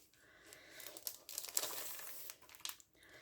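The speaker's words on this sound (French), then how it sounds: "Désolée pour le bruit de plastique, mais forcément il faut bien l'ouvrir." Close crinkling of plastic packaging, irregular bursts of rustling as it is handled and opened, with no voices.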